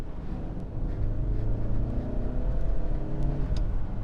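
A 2022 Hyundai Santa Cruz turbocharged 4-cylinder engine revs steadily, its pitch slowly climbing and wavering, a moderate continuous drone heard from a short distance.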